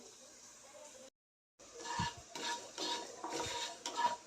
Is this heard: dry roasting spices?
yes